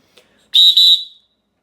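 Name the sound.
Fox 40 Micro whistle being blown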